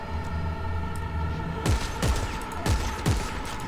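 Four loud gunshots in Dead Space 3, fired at an alien creature, each a sharp blast with a falling low boom, spaced roughly half a second apart over a steady droning game ambience.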